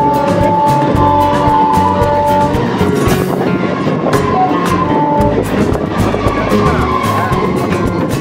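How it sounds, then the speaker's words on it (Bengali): A Bardhaman–Howrah local train passing close by on an adjacent track, a loud continuous rush of wheels and rattling carriages with metallic squeals, heard from aboard another moving train. "30195 ডাউন বর্ধমান হাওড়া লোকাল ভায়া কট আমাদের পাশ দিয়ে বেরিয়ে যাচ্ছে"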